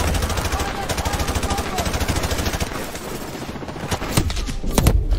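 Rapid, sustained gunfire from an enemy blind-firing in Call of Duty Modern Warfare Remastered, a dense, continuous burst of loud shots running throughout, with a few heavier impacts near the end.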